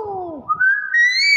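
A talking myna bird whistles a sliding, falling note followed by a higher rising whistle, loud and close, with faint throaty chatter underneath at the start.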